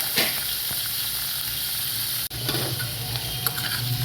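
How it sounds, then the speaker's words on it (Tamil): Radish chutney ingredients fry in a pan until brown, giving a steady close sizzle and hiss with a brief stir or clatter midway. "இது எல்லா பொருளும் நல்லா ப்ரௌனாக ஃப்ரை ஆகணும்."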